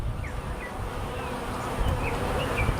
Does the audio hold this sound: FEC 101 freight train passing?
no